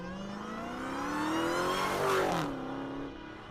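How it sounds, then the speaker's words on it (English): A car turbo blowing off, with a rising whine that swells and peaks, then a sharp whooshing release that quickly fades, loud and fairly close, with no talking. "The sounds of a turbo blowing off."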